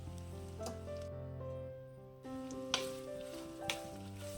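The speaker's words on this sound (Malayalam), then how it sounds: "ഇനി ആ ചൂടെണ്ണയിലിട്ട് ഒരു 20-30 സെക്കൻഡ് നേരത്തേന് നല്ലവണ്ണം ഒന്ന് ഇളക്കി കൊടുത്താൽ മതി" 350 grams of kanthari chillies are stirred in hot oil for a Kerala pickle, making a soft, steady sizzle with a few louder bursts. Sustained tones hum in the background.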